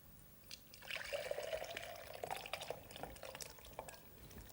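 Close, gurgling splashes and dribbles of thick smoked haddock chowder being poured into a blender, with a rising liquid fill tone and irregular drips, fairly quiet.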